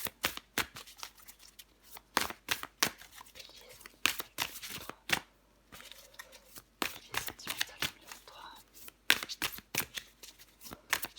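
Tarot cards being shuffled by hand in bursts of crisp riffling and slapping, close and loud, with short pauses and soft rustling between.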